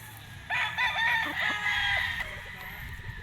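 A white Kelso gamefowl rooster at a game farm crows once, a loud, close, drawn-out call with a few rising and falling notes over faint background noise.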